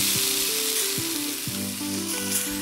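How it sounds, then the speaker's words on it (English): Food sizzles steadily as it browns in a hot pan with olive oil, a constant crackling hiss with faint clinks of a utensil underneath. "That sizzle means it's browning."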